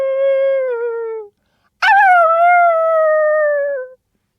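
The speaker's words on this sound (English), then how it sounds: "we could hear the coyotes howling down by the corrals." Coyotes howl near ranch corrals in two long, close, clear howls with a short silence between them; the second begins with a sharp yip before it slides into a sustained wavering cry.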